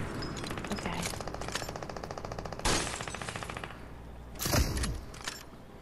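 Gunfire in Fortnite rattles out in rapid automatic bursts, a steady stream of close, sharp shots broken by a couple of louder, heavier blasts.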